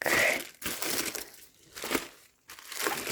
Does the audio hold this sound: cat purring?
no